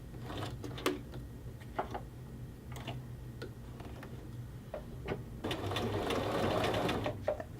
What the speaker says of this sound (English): Drop that needle down, and you're just really, truly going to sew literally right on top of that seam